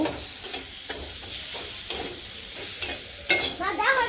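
Kharkon, potato and chili fry in a pan as the water cooks off, making a steady sizzle with frequent scraping stirs and a louder clatter near the end; nobody speaks.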